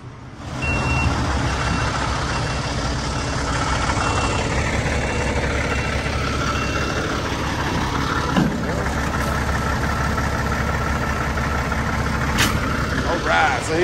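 Semi truck moving a trailer at a loading dock, its engine idling in a loud, steady rumble nearby while a reversing alarm beeps in a regular rhythm above it, and a voice speaks at times.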